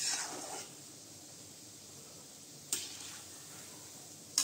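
Gulab jamun frying in oil in a pan, stirred gently over low heat: a steady soft sizzle and hiss throughout, with brief scraping stirs near the start and end.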